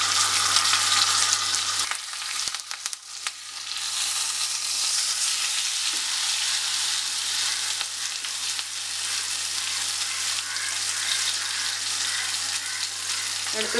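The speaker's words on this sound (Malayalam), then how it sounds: "ഇതിൻ്റെ ഒരു സൈഡ് ഫ്രൈ ആയി കഴിയുമ്പോൾ നമുക്ക് മറിച്ചിട്ട് കൊടുക്കാം അപ്പോൾ ഇതൊന്ന് ഫ്രൈ ആയി വരട്ടെ" Karimeen pearl spot fish fries in hot oil in a pan for a karimeen pollichathu, giving a steady, close sizzling hiss with a few faint clinks and a low background hum, no talk.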